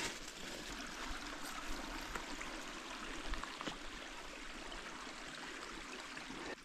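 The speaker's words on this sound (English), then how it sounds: "That's the creek" A creek running through a draw at the edge of a clear cut in the woods gives off a continuous, even rush and trickle of flowing water, fairly close and steady, with no one speaking.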